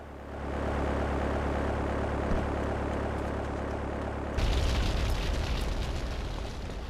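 A small Dodo plane in Grand Theft Auto III: The Definitive Edition gives a steady, loud engine drone that jumps abruptly to a harsher, brighter roar partway through, with no talking.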